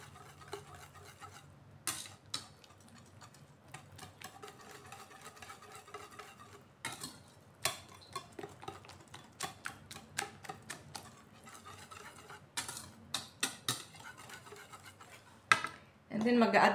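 Almond banana bread batter being stirred by hand, a soft continuous scraping and stirring with irregular knocks of the utensil against the bowl, moderately close, ending in a louder burst of clatter.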